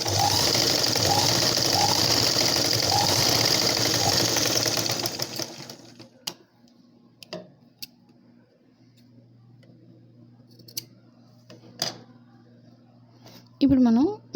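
A sewing machine stitches a line down the middle of a blouse strap, sounding as a loud rapid whirring run that stops halfway, followed by quiet handling clicks and a short voice.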